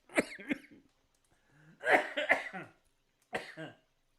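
Several sharp coughs after coffee went down the wrong way come in bursts, a pair early on, a louder cluster in the middle, then a last one, fairly close and separated by short silences.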